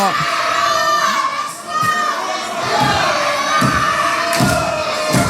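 A live wrestling crowd at a La Bagarre show chants a wrestler's name in loud, rhythmic, sustained unison, the voices filling the hall with steady pulsing shouts.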